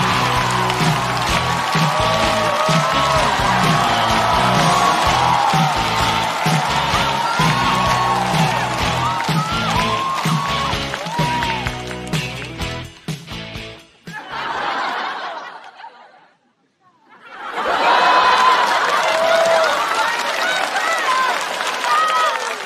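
A stand-up comedy show audience claps and cheers for a comedian coming on stage, loud dense applause over music, then a brief lull before a voice takes over.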